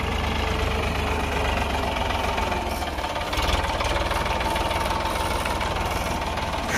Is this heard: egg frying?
no